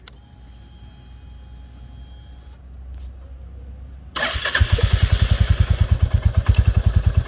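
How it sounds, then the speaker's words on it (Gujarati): A Royal Enfield Bullet motorcycle starts after a low idle hum and a pause, catching into a loud, close, steady thumping single-cylinder exhaust beat. "હવે જ્યારે આપણે આગળની લાઈટ આપણે વ્યૂ જોયું હોય ત્યારે આપણે બુલેટ સ્ટાર્ટ કરવું પડશે"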